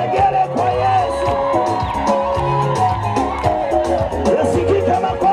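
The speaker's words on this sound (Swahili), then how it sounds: "Watu wazima piga vigelegele kwa Yesu." At a Christian crusade meeting in Mbeya, a large crowd raises high, warbling ululations and cheers over loud music, a dense and energetic chorus filling the whole stretch.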